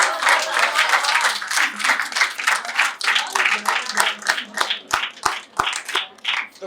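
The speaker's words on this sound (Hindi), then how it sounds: "तो कल्पना जी के लिए जोरदार ताली" Audience applauding a poet at a Hindi comic poetry gathering: steady, dense clapping from a large crowd throughout, thinning toward the end into a few sharp, separate claps.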